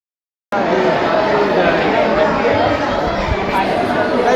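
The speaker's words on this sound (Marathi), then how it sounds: "लई गोंधळ होत आहे, खूप मोठी रश आहे, लई मोठी लाईन आहे" A noisy crowd of college students crowds a packed rush line on a trip, producing a dense, continuous babble of many overlapping voices that starts abruptly and stays loud.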